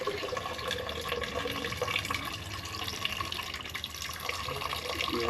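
Water running from a kitchen tap into a sink while mung beans are soaked and washed, a steady low splashing stream heard close by with faint clatter and no talking.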